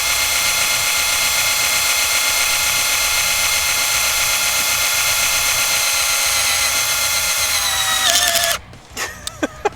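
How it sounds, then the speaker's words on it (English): A power drill bores through the metal head of an Olight Seeker 2 Pro flashlight, a loud steady whine held for over eight seconds before cutting off, followed by a few sharp clicks. "I'm just gonna drill through the other side to see if I can just go all the way through the head of the light."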